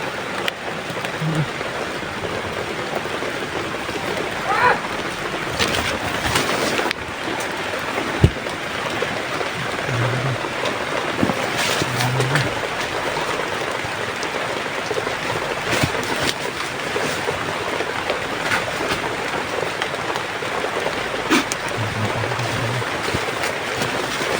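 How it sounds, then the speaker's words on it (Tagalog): Steady rain falls outdoors in a continuous, even hiss that lasts throughout, with a few soft thumps and knocks underneath. "Umuulan."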